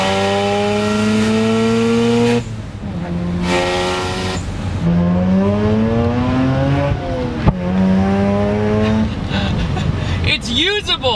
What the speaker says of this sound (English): you can tell when you rev it out, it likes it